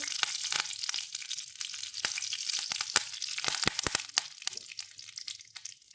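Mustard seeds, a chili and curry leaves sizzling in hot oil in a pan, a steady close crackle with sharp popping spits scattered throughout, no talk.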